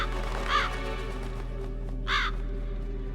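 Two loud, harsh raven caws ring out about a second and a half apart from the Metal Gear Solid video game, standing alone over a low steady hum.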